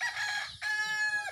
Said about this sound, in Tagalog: Nagkapakapa pang manok guys, kay gusto mo lupad guys.